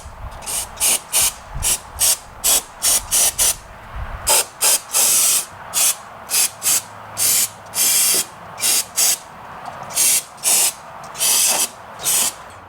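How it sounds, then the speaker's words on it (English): Brake cleaner sprays from an aerosol can onto a leaking power steering reservoir on a BMW E92 M3. Close, loud hissing bursts repeat in a quick, steady rhythm of short blasts for the whole stretch. "Brake cleaner going."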